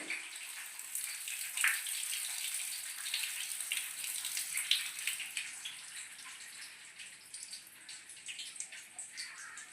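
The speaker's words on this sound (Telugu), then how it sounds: "అరటి మొక్కలు వాటర్ పోసుకుని క్లీన్ చేసుకున్నాం కదండి ఈ వాటర్ తీసేసుకున్నాం బయటికి" Water splashes and runs over cut plantain pieces being washed in a village kitchen, a continuous hissing trickle with small irregular splashes, moderately quiet and with no talking.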